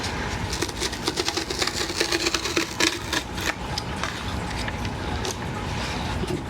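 Cardboard being cut along a seam during a craft session, a steady scraping, rubbing texture with repeated short strokes, close and moderately loud throughout.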